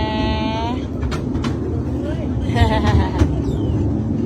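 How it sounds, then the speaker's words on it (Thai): Riding a sightseeing train at a Tokyo-area theme park, with a continuous low rumble of the moving car under nearby children's and adults' chatter and brief high tones. "นั่งรถไฟชมวิวค่ะ"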